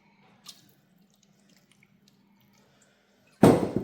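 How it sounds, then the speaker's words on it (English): Lemon juice poured over avocado in a home kitchen: after near silence with a faint tap, a short close liquid splash and trickle bursts in at the very end, alone without talk. "I'm just going to pour over some lemon juice quickly."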